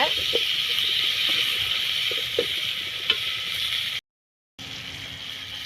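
Food stirred in a pot over a wood-fired stove at night, a steady sizzling hiss with occasional scraping knocks of the stirring, broken by a brief gap of silence.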